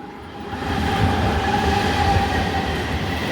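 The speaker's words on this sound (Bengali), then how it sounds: "যে ট্রেনটা আসছে এটা শিয়ালদা হচ্ছে গদ্দা বলে" A freshly repainted Sealdah-bound suburban train rolls into a station with a continuous loud rumble and rattle of wheels, a faint high squeal riding over the roar throughout.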